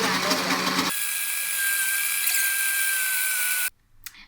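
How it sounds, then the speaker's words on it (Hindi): A kitchen grinder blends peanuts into paste for homemade Nutella, a loud steady high-pitched whine that runs about three seconds before cutting off abruptly, followed by brief faint clatter. "हमारी पीनट अच्छे से ग्राइंड हो रही है"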